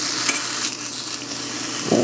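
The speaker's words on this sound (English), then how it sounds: "Hear that sizzle?" Steady hot-smoked bacon sizzle crackling in a hot pan without added oil, a continuous hiss with small pops, fairly close and unbroken.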